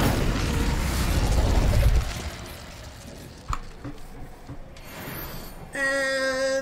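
A fire spell cast in Hogwarts Legacy inside a cave: a loud whooshing, rumbling flame burst that fades, a sharp pop midway, then a bright chiming magical tone at the end.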